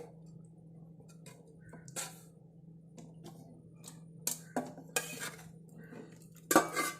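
A spoon presses boiled, thickened herbal hair dye through a metal strainer into a bowl, giving sparse, close metallic clinks and scrapes over a low steady hum, with no talk.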